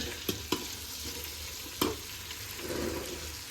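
Cumin seeds crackle and sizzle in hot Amul butter in a home kitchen pan, with a steady frying hiss, a few sharp pops and stirring clatter, close and moderately loud, with no talking.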